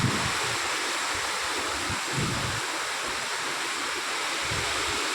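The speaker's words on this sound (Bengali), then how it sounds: "কালবৈশাখী চলছে, বিশাল হাওয়া দিচ্ছে" Strong wind and torrential rain of a Kalbaishakhi storm make a dense, constant roar with gusty low buffeting against the microphone, loud and unbroken, with no voices.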